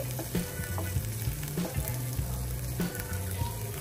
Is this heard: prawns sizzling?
yes